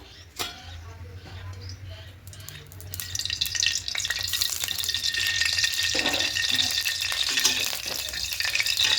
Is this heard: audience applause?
no